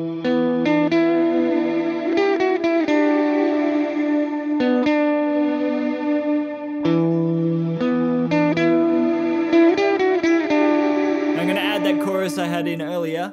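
A swelling synth pad run through the Valhalla Supermassive reverb plugin, sustained chords blooming and washing into a long, dense ethereal tail with chorus-like shimmer, steady and loud throughout with a brief thinning near the end.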